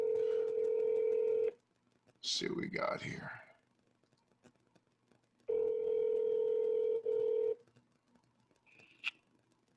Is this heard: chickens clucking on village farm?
no